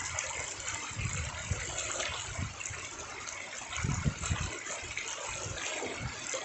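Clear river water running steadily at a swimming spot, a continuous low gushing wash with a few louder surges, no voices.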